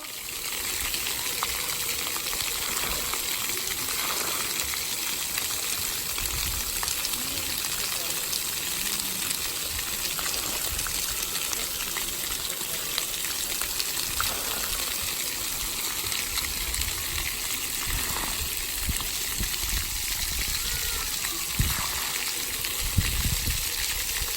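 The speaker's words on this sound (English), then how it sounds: "it's a little windy and wet here at the splash pad" Steady rushing spray of water at a splash pad, loud and continuous throughout, with faint voices and bustle mixed in behind it.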